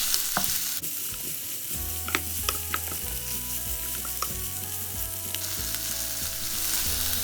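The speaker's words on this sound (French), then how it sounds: "on ajoute nos cubes de char siu et on continue à faire revenir le tout" Diced onion and char siu pork cubes stir-fried in a hot pan, steady sizzling with spatula scrapes and clinks against the metal, close and continuous with no talk.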